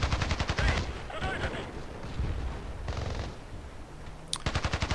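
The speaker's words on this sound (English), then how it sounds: "even when you're shooting in bursts, it's almost as if the gun brings itself back down to the center position" Short, sharp bursts of assault rifle fire in the online shooter Battlefield Play4free, clustered rapid shots opening and closing the stretch with quieter game ambience between.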